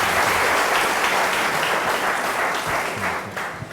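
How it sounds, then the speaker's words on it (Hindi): A studio audience claps steadily and loudly during a talk show discussion, an even wall of applause with no talking over it. "तालियां बजाइए साहब इसके लिए"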